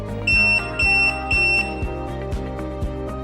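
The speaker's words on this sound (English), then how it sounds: "the mixer will make 3 beeps and stop mixing" A stand mixer's timer gives three loud, steady electronic beeps in an even rhythm, each held about a third of a second, followed by a low mechanical hum with faint clicks.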